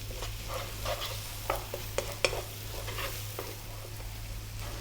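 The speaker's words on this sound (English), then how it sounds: "We're going to add 1 tablespoon of garlic ginger paste." Garlic ginger paste sizzles steadily in a pan while a utensil stirs it, with soft scraping knocks and clinks over a constant low hum.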